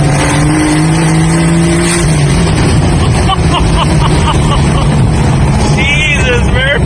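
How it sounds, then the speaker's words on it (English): A 1550 hp Toyota Supra running about 60 psi of boost makes a drag racing pass, a loud continuous engine roar that drops in pitch partway through, with speech over it. "Laying it down in the right-hand lane, the Supra records 11:17 at 135."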